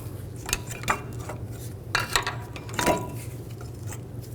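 Old brake pads are pulled from the caliper of a 2000-06 GMC Yukon. Several light metallic clinks and scrapes come up close over a steady low hum, with no talking.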